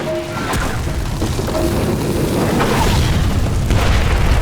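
Missile explosions in Splinter Cell Blacklist at an insurgent stronghold, a loud, sustained rumbling boom with scattered cracks and debris layered over continuous low roar.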